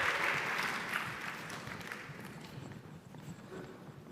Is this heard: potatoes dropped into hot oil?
no